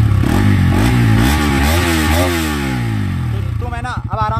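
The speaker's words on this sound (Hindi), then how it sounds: "अब मैं तुमको साउंड सुनाता हूँ अपने इग्निशन स्टार्ट करके बाइक का" Loud Bajaj Pulsar RS200 motorcycle engine with catalytic converter removed, revving up and down, raw and throaty, with rapid pitch sweeps and a harsh crackling exhaust close by.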